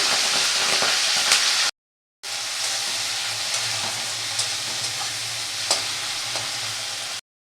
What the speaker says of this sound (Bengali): আর চিংড়ি মাছটা ভেজে নিচ্ছি